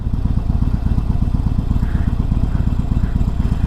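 A motorcycle engine idles nearby, a loud, steady low-pitched rumble with rapid even pulses and no talking.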